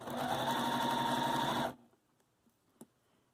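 A sewing machine runs steadily at a regular stitch length, sewing the seam of a separating zipper, a loud continuous whir for under two seconds before stopping abruptly, followed by a faint click.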